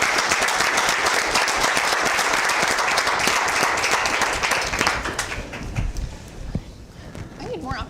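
Sustained applause from a crowd at a school board meeting, dense clapping that carries for about five seconds before thinning out to scattered claps, with voices underneath.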